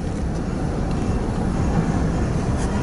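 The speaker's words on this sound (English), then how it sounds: "That train on the Harrisburg line heading east" A train on the Harrisburg line runs east with a continuous low rumble, steady and moderately loud throughout, no voices.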